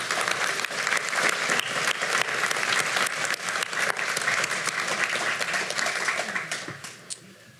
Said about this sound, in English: Let's thank them with an applause.